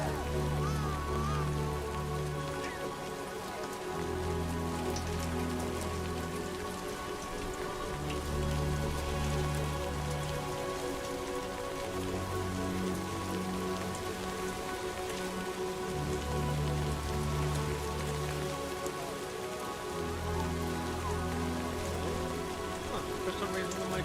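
Steady rainfall in the Death Stranding 2 video game, a continuous patter on surfaces running throughout, layered over a low droning game soundscape that swells and drops in regular pulses, with no speech.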